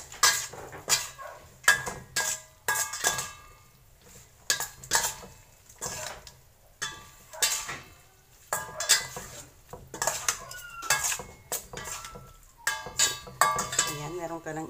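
Utensils clink and scrape against a bowl in irregular bursts as grilled eggplant salad is tossed and mixed, close and fairly crisp, with short pauses between strokes.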